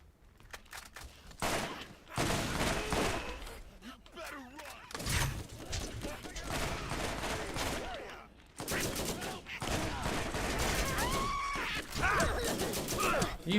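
Gunfire from a weapon in the video game Borderlands, repeated bursts of shots with crashing impacts, loud and busy, mixed with game sound effects and a voice talking over parts of it.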